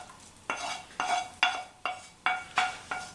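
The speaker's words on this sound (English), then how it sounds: "we're going to start off by putting that in the bottom of our slow cooker" Simmered garlic and onions being scraped from a pan into the bottom of a slow cooker: seven sharp scraping strokes in a steady rhythm, close and moderately loud, with no talking.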